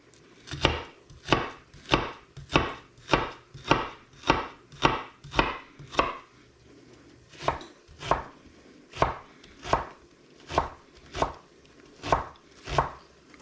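An onion chopped on a cutting board for guacamole, a steady series of sharp, close knife strikes in even rhythm with a brief pause midway, with no talking.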